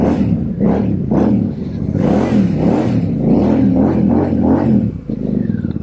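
Royal Enfield Super Meteor motorcycle fitted with AEW slip-on exhaust pipes, revving loud and close in a run of repeated throttle blips that rise and fall.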